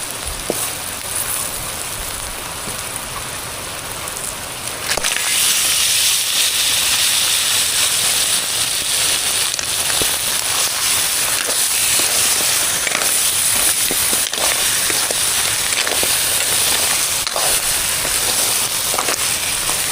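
Crabs and grated coconut go into a hot pan on a wood-fired stove, a loud steady sizzle bursting up after a few seconds and hissing continuously to the end, with occasional crackles.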